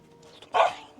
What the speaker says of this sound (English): This is what's barking at us right now.